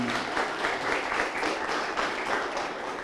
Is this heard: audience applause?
yes